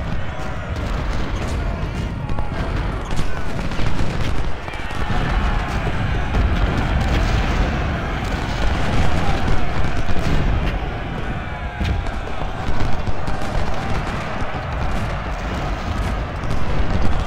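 Continuous rumbling battle din from the Civil War strategy game Ultimate General: Civil War at Fredericksburg, dense overlapping musket crackle and booming artillery rolling on without pause, loud and chaotic throughout.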